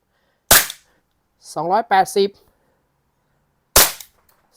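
Two sharp, crisp pops from a Double Bell M1911 mini gas airsoft pistol, spaced a few seconds apart, with a brief burst of speech between them.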